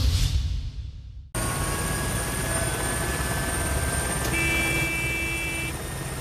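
Fennec military helicopter lifting off at the Orléans-Bricy airbase in central France, a loud steady rotor and turbine roar under a sustained whine, with tonal beeps partway through, after a brief quieter moment.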